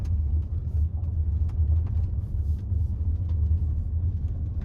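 A 2021 Toyota Venza Limited driving over loose gravel and dirt, heard from inside as a steady low road rumble with faint crunching, continuous and fairly loud, with no talk.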